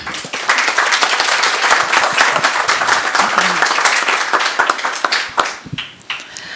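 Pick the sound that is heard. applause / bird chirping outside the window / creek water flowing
applause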